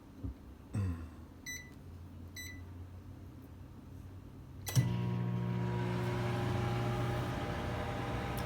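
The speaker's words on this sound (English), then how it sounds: "Sorry for the dirty microwave." A microwave oven reheating an egg: a few beeps from the keypad, a door thump, then a steady loud hum with a low drone as it starts running and keeps going.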